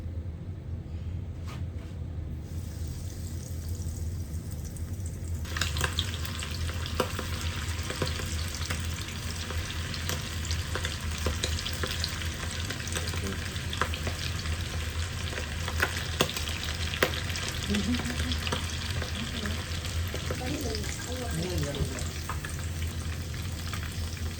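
Egg-coated squid fries in hot oil for a squid roast, a loud continuous crackling sizzle that runs steadily throughout, with scattered pops and faint clinks from the pan.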